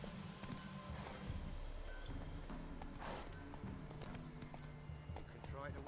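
A horse gallops in The Witcher 3, its hooves clip-clopping in a fast, steady rhythm, heard under someone talking.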